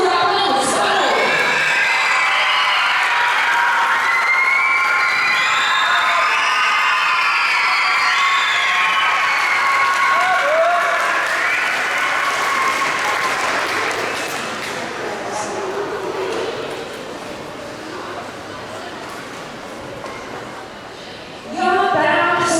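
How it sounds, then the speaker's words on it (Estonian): Applause and cheering from a concert audience at an Estonian skating school's year-end jubilee show, a dense steady roar of clapping with shouts that runs nearly the whole time, easing slightly toward the end. "Suur aplaus, palun!"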